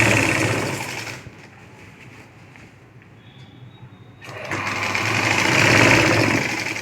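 A sewing machine puts a reverse hem on a saree edge before lace is attached, whirring loudly at the start, pausing, then running steadily again near the end.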